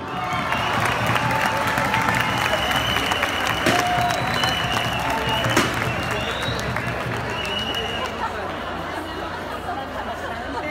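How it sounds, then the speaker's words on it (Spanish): A carnival crowd at an outdoor comparsa performance claps and cheers, with shouts and chatter mixed into the sustained applause and a few whistles cutting through, fading slightly toward the end. "¡Aplauso!"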